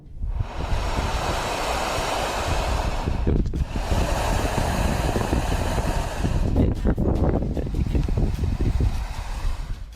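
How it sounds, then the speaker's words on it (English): Loud wind rushes through a construction tunnel for a pipe on a windy day, giving a continuous surf-like roar that drops briefly and surges back, close and unbroken. "this is actually just wind rushing through some kind of construction tunnel for a pipe or something"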